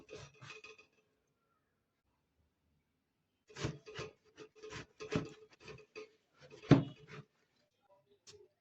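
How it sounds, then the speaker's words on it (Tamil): Knife scraping the skin off a breadfruit for curry: bursts of close, dry rasping and rubbing strokes in short clusters, separated by a quiet pause. "தோலெல்லாம் சீவி எடுக்க வேணும்."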